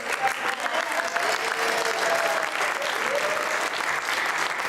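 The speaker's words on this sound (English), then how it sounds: "big round of applause for everyone who got it" Steady, dense applause from a crowd at a Cub Scout Arrow of Light ceremony, sustained and fairly loud throughout, with no clear pauses.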